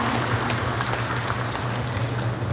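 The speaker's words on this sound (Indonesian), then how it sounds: "Bapak Ibu boleh diulang sekali lagi tepuk tangannya." An audience at an HV factory facility opening ceremony claps steadily and fairly loudly in a dense, sustained round of applause, with a low electrical hum underneath.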